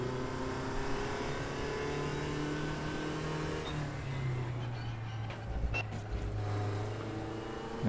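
A racing car in the RaceRoom sim game drives with a low, steady engine drone and faint cabin and body rattles, heard fairly quietly with a slight dip and surge in engine tone midway.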